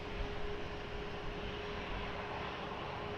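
Airplane taking off at Lisbon Airport, a steady distant roar of jet engines holding level throughout with a faint hum running underneath, ending in a sharp click.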